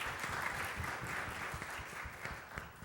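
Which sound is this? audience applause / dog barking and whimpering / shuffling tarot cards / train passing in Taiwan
audience applause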